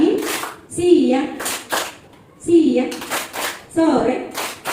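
Children in a classroom clap along to a call-and-response clapping chant led by a teacher, with short bursts of clapping alternating with the teacher's voice and the children chanting.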